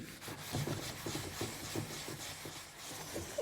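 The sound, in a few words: abrasive sponge rubbing gently on furniture screws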